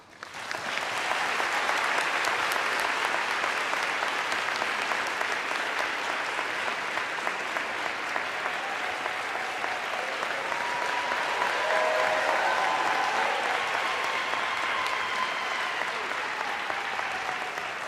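Sustained audience applause welcoming President Barack Obama on stage in Glasgow, a dense, steady clapping from a large crowd that swells in briefly and holds at an even level for the full stretch, with no talk over it.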